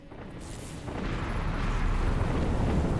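Spaceships trading weapons fire in the space strategy game Sins of a Solar Empire, modded with Sins of the Prophets, make a dense, rising roar of blasts and rumbling booms that builds and holds loud throughout.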